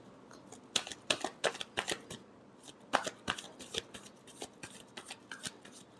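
Tarot cards being shuffled by hand close by, a fast series of crisp riffling flaps in bursts with short pauses between them, and no talking.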